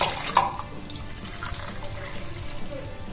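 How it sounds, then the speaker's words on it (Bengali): Four cups of water are poured into a pressure cooker holding chana dal, a close, continuous splashing pour with no talking. "4 কাপ জল দিয়ে দিয়েছি"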